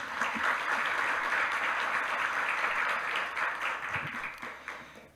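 An audience at a public event gives a round of applause for the absent mayor, a dense, even patter of many hands that stays steady for several seconds and then tapers off near the end.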